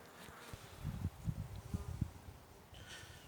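Honey bees buzzing around a weak hive being fed, a low droning hum with a few louder swells passing close by, no voices.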